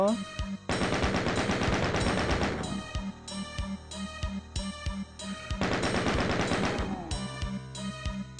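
Rapid automatic gunfire from the video game DOOM 2 on the Nukage Processing level, loud bursts of machine-gun shots in two long volleys with single shots between them, over game music and no talk.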